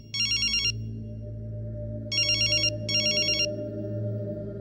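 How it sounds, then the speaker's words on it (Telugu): A telephone rings unanswered in a Telugu action film scene: three bursts of electronic trilling ring tone, the first alone and the next two close together, over a low steady background hum. "ఫోన్ ఎత్తడేట్రా"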